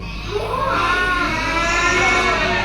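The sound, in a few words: children imitating a buffalo's bellow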